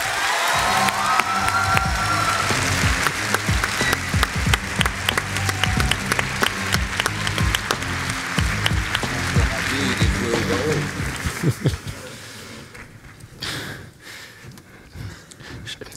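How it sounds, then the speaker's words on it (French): Audience applause at an eloquence contest final greets speaker François Ravier, a long dense wash of clapping with some cheering that fades out near the end. "Je vous prie d'applaudir François Ravier"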